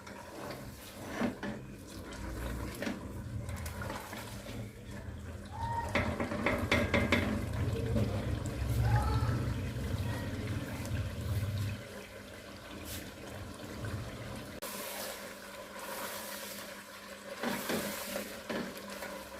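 Meat for aloo gosht is fried in a pot once its liquid has dried off, giving a continuous low sizzle with occasional scraping and stirring clatter from the pan.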